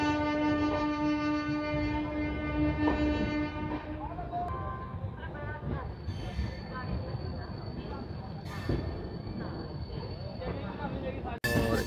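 The Lalkuan-Bandra superfast express pulls out of Moradabad station with a long horn blast, then a rumble of wheels and carriages rolling under a steady station hum, with someone talking over it and a sharp clunk at the end.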